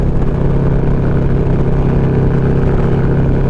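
A 2020 Harley-Davidson Road Glide motorcycle rolls along a road near Killeen with a loud, steady low engine drone and wind rush, heard up close from the rider's position.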